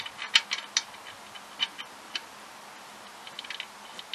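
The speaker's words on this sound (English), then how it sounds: "We're getting the drain bolt back in now." Light ticking and small metallic clicks as the oil drain bolt is threaded back into a 2015 Honda Civic's oil pan, sparse irregular taps, close but faint over a steady background hiss.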